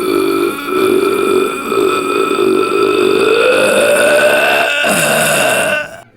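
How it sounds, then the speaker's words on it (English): One long, loud, drawn-out burp rumbles steadily for several seconds, close and dominant with no talking, ending abruptly. "y'all gotta hear this type of burp"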